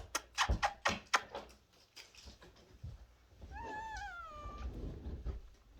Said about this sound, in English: This is the angry kitty cat who does not like me.